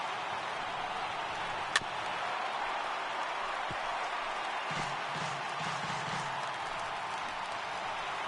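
Stadium crowd of over 39,000 roaring in a baseball video game on PS4, a faint, distant, steady wash of cheering with a single sharp crack near the start.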